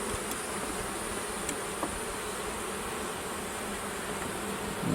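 Honey bee colony humming steadily inside a hive with freshly built comb, a dense continuous buzz close by with a few individual bees droning past, no talking.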